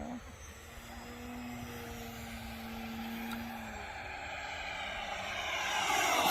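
An Avanti S 80mm high-performance EDF radio-controlled model jet flies during speed trials, its steady whine and rushing airflow building in loudness toward the end as it nears, with a brief low hum early on.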